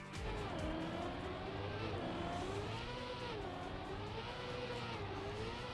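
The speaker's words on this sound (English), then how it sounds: "I'm gonna turn up the car sounds" Racing car engines from the video game Trackmania whine and rev continuously, their pitch rising and falling as the cars accelerate and ease off, heard fairly faintly and without any talking.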